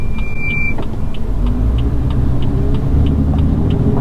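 A 700bhp BMW M4 F82 drives on an open road, its engine and road noise forming a steady, loud rumble throughout with no voices.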